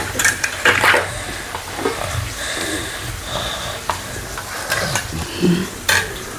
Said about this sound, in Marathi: मग याच्यात आपण भात टाकायचा